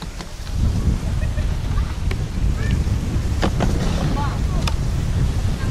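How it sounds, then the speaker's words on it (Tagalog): Strong wind buffets the microphone in a steady low roar throughout on a white sand island beach, with faint waves and a few brief sharp clicks in the background. "lakas ng hangin ngayon"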